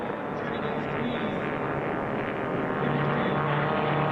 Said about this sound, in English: they are very close as now the aircraft are getting up to speed